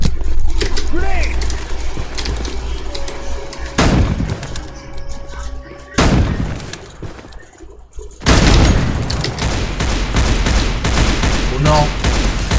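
Grenade explosions and gunfire in a video game: loud repeated blasts and rapid shots in bursts, with sharp booms near four, six and eight seconds, mixed with voices shouting over the chaos.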